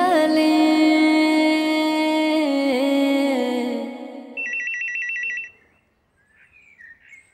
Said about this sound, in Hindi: अम्मा फोन बज रहे।